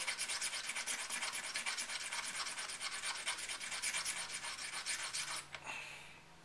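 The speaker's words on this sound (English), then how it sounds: "You could, when you rub it on the stone" An AR15 trigger part is rubbed on a coarse gunsmith stone, giving a steady, close rasping scrape for about five seconds. The scraping then stops abruptly, leaving quieter background.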